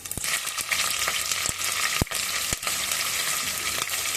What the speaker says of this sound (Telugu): తర్వాత టూ టేబుల్ స్పూన్ ఆయిల్ వేసుకొని అది కాగాక అందులో అన్నీ మనం బిర్యానీ స్పైసెస్ ఆవాలు జీలకర్ర అన్నీ వేసుకోవాలి ఆ తర్వాత పచ్చిమిర్చి వేసుకోవాలి